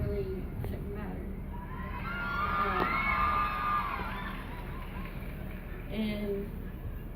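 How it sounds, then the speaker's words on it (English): Audience at a multifandom cosplay convention panel cheering, screaming and clapping, a rising crowd roar that swells and then subsides, mixed with chatter. "All the clapping and screaming."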